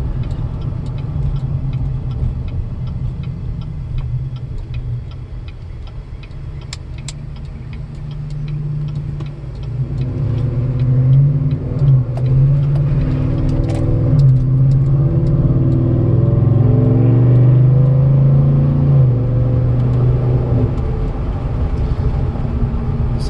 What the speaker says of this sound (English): Gotta love that Corsa exhaust. Man, this thing picks up and goes.